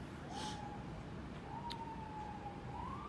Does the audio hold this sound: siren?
yes